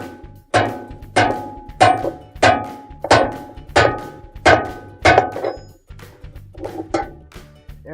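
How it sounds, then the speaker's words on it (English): A hammer strikes a spanner wrench on a GE washer's hub nut about a dozen times in a steady rhythm, each blow a sharp ringing clank, close and loud, the last few lighter. "using a hammer we're going to tighten the hub nut"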